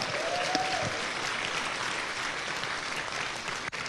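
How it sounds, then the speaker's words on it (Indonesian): Steady applause from a seminar audience fills the room, a continuous mass of clapping at even loudness with a faint tone sliding in at the start. "Berikan tepuk tangan semua."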